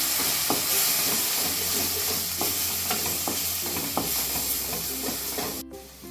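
Okra masala being stirred in a pan, with a steady frying sizzle and repeated scraping knocks of the spoon against the pan, close and moderately loud, no talking.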